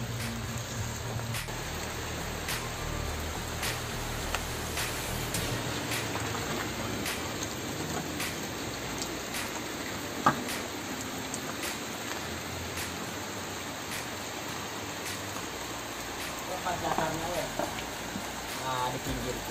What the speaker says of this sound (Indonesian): Gemercik gerimis kecil menemani perjalanan trekking kami waktu itu.